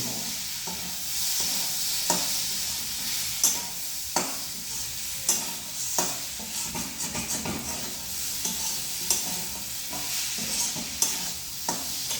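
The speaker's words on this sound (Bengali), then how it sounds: "সবটা মিক্স করে ভালো করে কষিয়ে নিতে হবে।" Ground coriander, cumin, Kashmiri chilli and turmeric are stirred and sautéed in a pan for a small prawn and potato curry, with a steady sizzle punctuated by sharp, regular scrapes of the spoon against the pan.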